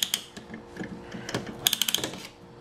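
A small tightening tool is worked on a piston ring compressor during a 2007 Subaru Impreza 2.5i SOHC engine rebuild, giving close, quick ratcheting clicks in uneven bursts, with a rapid run of clicks near the middle.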